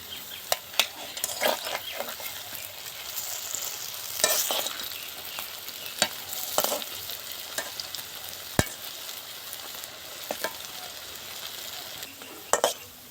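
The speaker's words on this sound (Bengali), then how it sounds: "তেলটা গরম হয়ে গেছে এবার ভেজে নেব" Cabbage pakoras sizzling in hot white oil in a heated kadai, a steady crackling fry punctuated by sharp clinks and scrapes of a utensil turning and lifting them.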